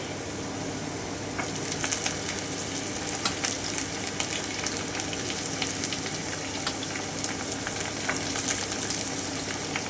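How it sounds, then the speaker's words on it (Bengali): Carrots sizzle in oil in a pan for sambar dal, a steady, moderately faint crackling fry with small pops throughout and no talking. "আমি এটা দু থেকে তিন মিনিট একটু ভেজে নিচ্ছি এবারে আমি গাজরটা দিয়ে দিচ্ছি"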